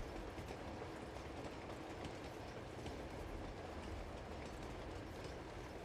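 Train from the video game Uncharted 2, a steady, loud rumble of rolling rail cars with a continuous clickety-clack running unbroken throughout, no voices.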